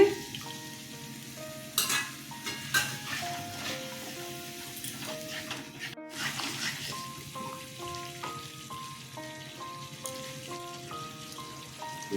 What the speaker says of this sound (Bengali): দইটা আমি আগেই ফেটিয়ে রেখেছিলাম দইটা দিয়ে দিচ্ছি